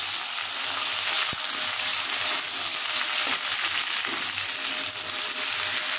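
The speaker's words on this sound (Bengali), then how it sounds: "এই যে সবজি দিয়ে একটুখানি নাড়াচাড়া করবো।" Shrimp and vegetables sizzle steadily in a pan while being stirred for a shrimp and Malabar spinach chorchori, with a constant soft crackle, one sharp click early on, and no voices.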